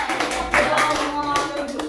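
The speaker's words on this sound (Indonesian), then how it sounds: "tepuk tangan dulu buat kelompok 2" Students clap for a classmates' group in a room, a short burst of sharp, close handclaps with uneven rhythm, a few distinct slaps standing out and voices faintly mixed in.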